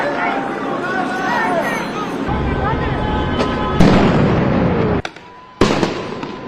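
Sharp bangs of gunfire crack out a few times amid crowd noise at a Los Angeles street protest with burning cars, under a voice speaking throughout.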